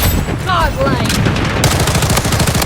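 Rapid gunfire in the shooter game Blood Strike with a SCAR rifle, loud and close, in quick bursts under a player's excited voice.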